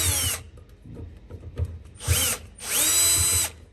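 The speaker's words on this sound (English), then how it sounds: "Okay, now we need to remove these small screws here." Cordless power driver spinning out tiny screws on a Mazda RX7 fuel pump, three short whirring bursts, the last and longest near the end, loud and close with no talk.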